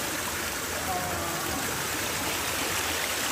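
Clear forest stream water rushes in a steady, loud, unbroken wash with no clear breaks.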